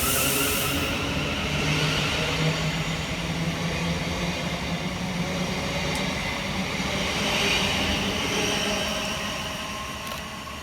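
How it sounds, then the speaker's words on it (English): Two coupled Southeastern Class 707 units, 707014 and 707009, pass Catford Bridge on a Hayes to Charing Cross service, a loud steady rumble and rush of wheels that slowly fades toward the end. "kicking us off is 707014 and 707009 with the 1704 Southeastern service from Hayes through to London Charing Cross"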